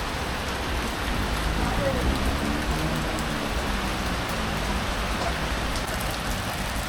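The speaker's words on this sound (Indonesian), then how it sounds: "Hujan, kejebak hujan." Steady rain falls at a fishing pond in Kamal Muara, a dense, even hiss of drops pattering on water and surfaces that holds at the same level throughout.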